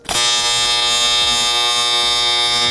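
TIG welder running a bead on dirty aluminum joinery, giving a steady, loud high-pitched AC buzz that holds without a break for a few seconds, with no voices over it.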